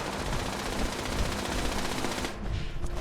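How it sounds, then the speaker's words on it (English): Rapid automatic gunfire from a Gatling laser or turret in Fallout 76, a dense continuous rattling burst that fills the clip at steady loudness, then thins briefly near the end before resuming. "I hear like a Gatling laser."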